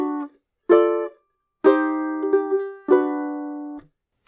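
Ukulele chords for a lullaby strummed so all notes ring at once, four separate chords with brief silences between, bright and close, each ringing and decaying.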